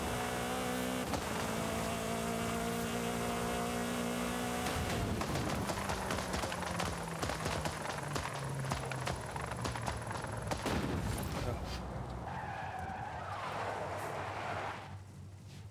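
A tuned small car in Forza Horizon 5 roars at high revs, its engine note sliding downward amid rapid clattering bursts and skid noise, then fading toward quieter sounds near the end.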